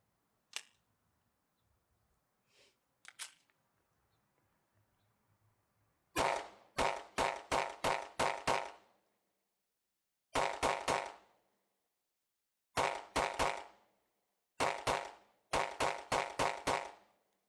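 A Canik TTI pistol fitted with a low power recoil spring and eight inline ports fires sharp, cracking shots in quick bursts: a few lone shots, then rapid strings of three to six shots separated by pauses.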